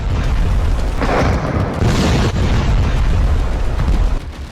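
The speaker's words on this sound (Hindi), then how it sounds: "ईरान की तरफ से भी बैलिस्टिक मिसाइल से प्रहार किया जा रहा है।" Heavy explosions from missile strikes in war footage of the Iran–Israel conflict: a loud continuous rumble with two big blasts swelling near the middle, fading slightly at the end.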